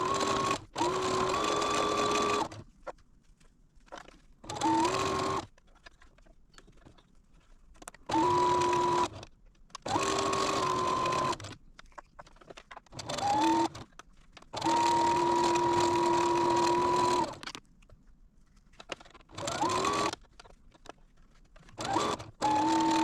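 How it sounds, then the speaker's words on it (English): A sewing machine stitches quilt blocks in bursts of rapid whirring, stopping and starting repeatedly with short quiet pauses between runs. "meet me at the sewing machine"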